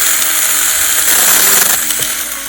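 A See-Sii pole saw lops small branches off a tree outdoors, giving a steady, loud mechanical whir with rattling chain noise that runs throughout and eases slightly toward the end.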